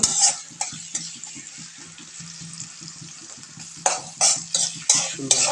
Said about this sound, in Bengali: এখন তেল আর পেঁয়াজ দিয়ে নাড়াচাড়া করে নিচ্ছে